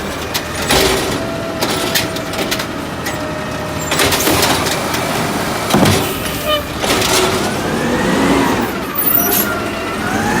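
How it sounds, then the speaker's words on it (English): A 2015 or 2016 Peterbilt 320 sanitation garbage truck in Los Angeles runs close by, its engine rumbling loudly with surges and whining hydraulic tones, plus hisses and clanks over roughly ten seconds. "2016 or 2015 Peterbilt 320"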